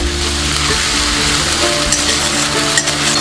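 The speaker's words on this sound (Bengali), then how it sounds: "আমি পাঁচ চামচ জিরে বাটা দেবো দিয়ে ভালো করে নাড়বো যাতে কাঁচা গন্ধ না থাকে" Potatoes fry in oil with cumin paste while being stirred for a vegetarian aloo dum. A loud, dense sizzle runs steadily throughout with soft scraping from the stirring and no voices.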